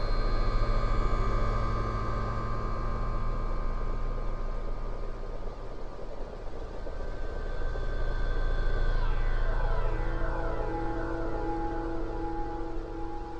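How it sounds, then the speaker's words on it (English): A sustained Omnisphere synth drone using the Lagrange Point patch, a dense, steady layered tone with shifting harmonic sweeps and a sliding pitch movement partway through, playing alone at a constant loud level. "This is a great drone."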